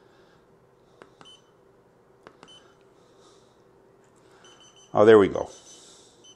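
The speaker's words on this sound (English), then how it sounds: "if the alarm goes off, you have to clear it before you get another alarm" An Inkbird IRF-2SA wireless food thermometer alarm gives faint, short paired beeps, two double chirps about a second apart in a quiet room, followed by a brief spoken remark.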